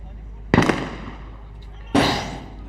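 Two sharp, loud sniper rifle reports from a Punjab Police sniper at a SWAT challenge competition, each a sudden crack followed by a rolling outdoor echo, spaced about a second and a half apart.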